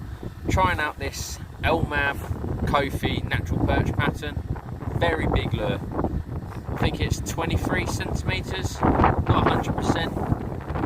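Heavy wind buffeting the microphone outdoors while pike fishing, a constant rumbling roar beneath someone talking throughout.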